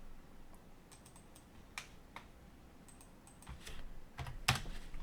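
Quiet computer keyboard typing, with scattered individual keystrokes and short bursts of clicks, close-up, the last few taps sharper and louder, with no talking.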